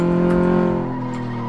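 Virtual car in the video game Car Mechanic Simulator 2015, with weak, failing brakes, braking hard with a brief tire squeal over a loud, steady engine drone that eases slightly toward the end.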